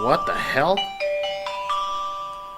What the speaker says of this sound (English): that was my phone giving an emergency alert